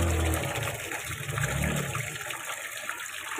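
Rinse water carrying fabric softener pours from a container into a toilet bowl, a steady close rush and gush of water that slowly tapers over a few seconds.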